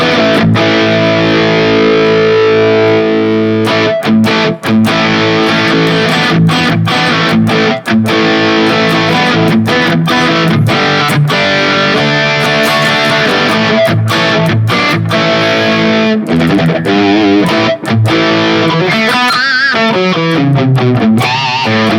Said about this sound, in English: need something which adds a little bit distortion. So my pedal of choice is usually overdrive.